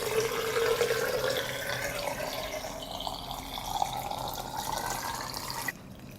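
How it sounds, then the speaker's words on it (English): Water pours steadily into a glass jar packed with tomatoes during home canning, a continuous close filling gurgle that rises slightly in pitch before cutting off near the end. "I pour water to cover the tomatoes."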